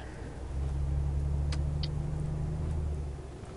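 In Euro Truck Simulator 2, a truck engine drones low and steady as the truck pulls away. The hum swells in, holds for a few seconds and then eases off, with a couple of faint clicks over it.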